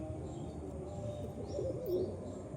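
Faint, soft cooing of pet pigeons, a few low murmuring coos over a quiet background.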